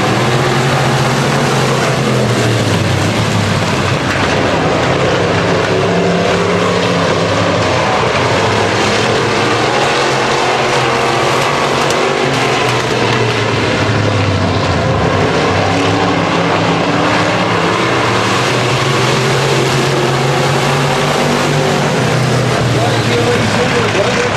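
Race cars roaring around a speedway oval, a loud continuous blend of engines rising and falling as the pack passes, with an announcer talking over the din throughout.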